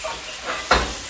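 Butter sizzling in a hot pan, a soft steady hiss with a brief louder crackling surge near the end, close and without talk.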